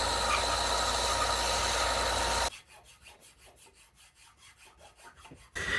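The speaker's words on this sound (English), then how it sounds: "So I'll just kind of complete this back over on the sander" A power sander whirs loudly and steadily as it shapes a wooden fishing rod part, then cuts out, leaving a few seconds of quiet rhythmic scraping before the machine roars back.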